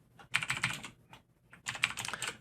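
Typing on a computer keyboard, two quick bursts of close, crisp key clicks separated by a short pause, with no one talking.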